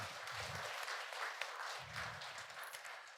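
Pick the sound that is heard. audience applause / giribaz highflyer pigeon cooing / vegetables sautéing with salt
audience applause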